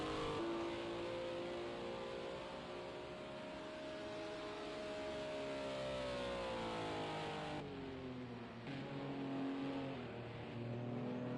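A Ginetta GT4 race car engine roars in a racing video game at the Bugatti Circuit. The engine holds steady and loud for the whole stretch, its pitch rising and falling as the car revs and shifts gear, with no voices.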